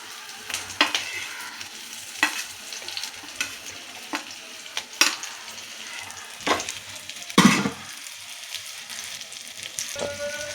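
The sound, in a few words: frying potatoes and eggplant in a pan, stirring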